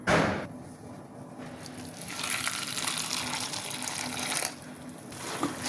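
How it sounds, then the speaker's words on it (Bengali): Tap water gushes steadily into a bowl to rinse puffed rice (khoi) for a sweet, with a louder full flow in the middle before easing, close and continuous with no talking. "জলটা দিয়ে ভালো করে ধুয়ে নিতে হবে।"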